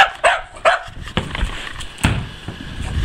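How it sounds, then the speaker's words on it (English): Near the camera, a dog playing fetch in the snow lets out several sharp, eager barks and yips at irregular intervals, with outdoor background noise between them and no talking. "Impatient dog."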